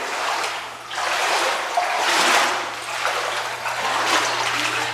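Steady rushing and trickling water fills a flooded basement holding about eight inches of water, a continuous splashy flow with a low hum underneath, with a Zoeller pump present.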